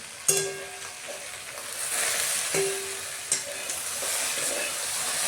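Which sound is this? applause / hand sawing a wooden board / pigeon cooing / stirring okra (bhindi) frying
stirring okra (bhindi) frying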